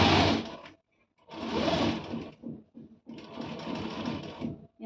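Sewing machine stitching a velvet blouse, locking the seam at the neck: loud motor-driven runs in three bursts separated by brief pauses, heard alone without talk.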